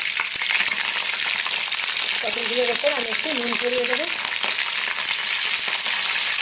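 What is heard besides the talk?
pointed gourd (potol) frying in hot oil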